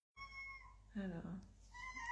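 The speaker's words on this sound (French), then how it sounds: "j'ai un de mes chats qui s'exprime." A house cat meows close by, one drawn-out, wavering call in the middle, with faint tonal background sounds before and after.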